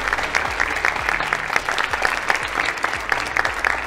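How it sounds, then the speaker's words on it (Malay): Steady audience applause, dense clapping from many hands filling the room continuously without pause. "Tepukan untuk anda semua."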